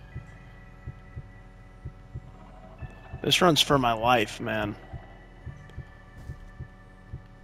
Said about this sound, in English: I got to do this thing, heartbeat sensor thing again